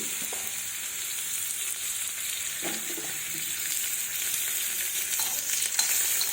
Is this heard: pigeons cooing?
no